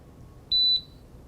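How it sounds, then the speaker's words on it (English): A single short, high-pitched electronic beep from a Riken Keiki GX-6000 gas detector at start-up, clear and steady, over faint background hiss. "Keep the power enter button pressed for 5 seconds until you hear a beep sound."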